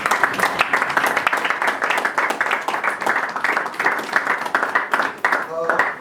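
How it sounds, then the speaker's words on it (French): A church congregation at a special celebration evening applauding, steady dense clapping throughout, loud and close, with voices mixed in. "On acclame pour la parole des Dieu."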